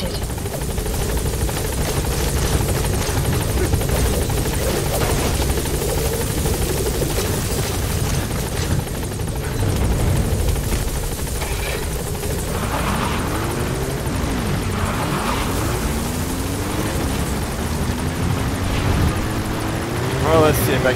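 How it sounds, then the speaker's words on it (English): A support helicopter from Metal Gear Solid 5 arrives with a loud, steady rotor roar throughout, while gunfire, game effects and a radio voice play over it. "Support helicopter has arrived."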